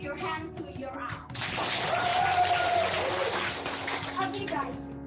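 Clapping rises from the audience at a national English essay-writing and public-speaking competition, a broad wash of applause after a voice at the start, with a voice and other sounds mixed in.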